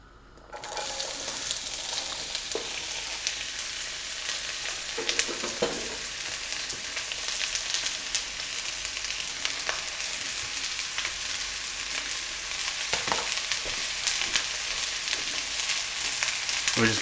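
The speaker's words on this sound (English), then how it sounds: "We're just going to let that sweat down for a few minutes, stirring occasionally so that it doesn't get stuck to the bottom." Chopped carrots, onions and celery sweat in a hot pan with a steady, close sizzle and hiss, broken by occasional scraping and clacks of stirring, with no talking.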